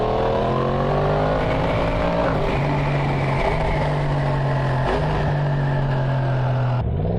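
A 2023 Yamaha MT10 motorcycle with a Woolich remap under way, its engine a loud, steady droning hum that rises gradually with brief dips at gear changes and a sharper drop near the end, over constant wind rush.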